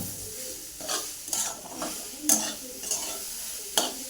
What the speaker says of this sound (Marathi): मिक्स करून घेऊया आपण सगळं